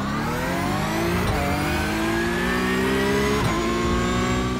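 Porsche Cup race car engine at a race start in iRacing, loud and close, revving hard and climbing steadily through quick upshifts with brief dips between gears.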